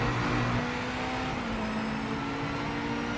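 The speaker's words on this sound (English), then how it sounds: "Sounds like there could be a car outside." Car engine droning steadily at a constant pitch, with a brief shift early on, fairly loud and unbroken, like a vehicle idling or cruising nearby.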